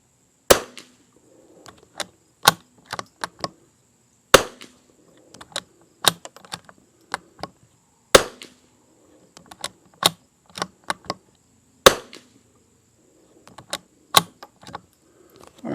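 Rifle shots from a Lithgow LA101 or CZ 455 with a Walther barrel firing Lapua Midas+ ammunition ring out as about five sharp, loud cracks spaced several seconds apart, with softer mechanical clicks between them and no talk.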